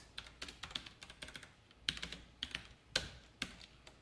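Fingers tap on a computer keyboard while writing Java code, a close, quiet run of uneven keystrokes with short pauses between bursts.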